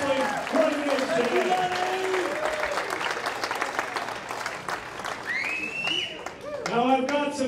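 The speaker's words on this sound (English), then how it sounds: "give yourselves a round of applause" A wrestling event crowd applauds steadily with dense clapping and cheering, while voices shout and call out over the ovation.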